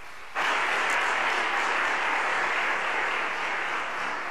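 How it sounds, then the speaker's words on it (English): Applause rises abruptly and holds for a symposium panel at the 6th Annual Radical MLK Symposium. The room fills with a dense, loud, even wash of clapping that keeps going without a break. "Give them a round of applause."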